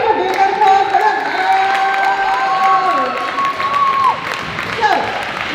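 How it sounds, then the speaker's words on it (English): An audience at a show choir cabaret claps and cheers, loud and sustained, with whoops and high shouts over dense applause. "Let's give a big round of applause for that."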